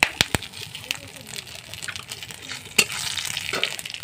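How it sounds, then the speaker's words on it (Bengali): Whole garam masala spices and bay leaf sizzle in hot oil while tempering for winter-vegetable khichuri, a steady close frying hiss with sharp stirring clicks and scrapes, a voice talking faintly beneath. "আমি এখন খিচুড়ি ফোড়ন দেওয়ার জন্য এখানে করছি, মশলা করছি, ফোড়ন দিচ্ছি"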